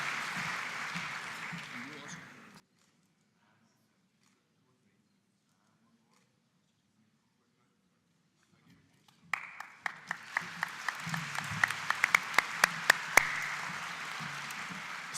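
Audience applause closing an award ceremony at an animal science annual meeting in Belfast: clapping fades out, silence follows, then applause swells again with a few sharp, close individual claps standing out near the end.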